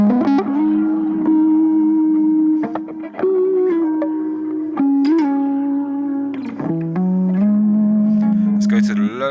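Electric guitar played through the Tera Echo effect of a BOSS GT-1000 Core, with sustained distorted notes that shift in pitch, plus smeared echo tails and a short bright flourish at the end.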